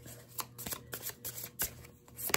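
Tarot cards drawn and handled from a golden tarot deck, quick close rustling and snapping slides of cards in irregular bursts, fairly quiet and alone without talk.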